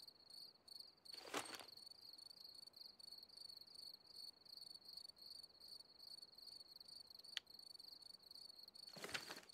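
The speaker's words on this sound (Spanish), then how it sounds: "cómo suenan los grillos" Crickets chirp steadily through a calm night in the countryside, a continuous high, pulsing trill with a few brief louder rustles or knocks standing out against it.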